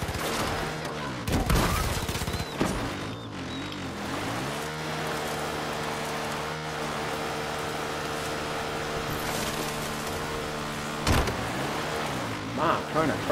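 Bursts of gunfire crack out in Far Cry 5, loudest early on and again near the end, over the steady drone of a truck engine that rumbles throughout the drive.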